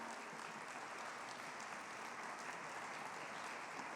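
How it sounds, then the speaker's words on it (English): Audience clapping for honors band students, a steady even wash of many hands heard at moderate distance, unbroken for the whole stretch with no voices over it. "let's give these students a round of applause."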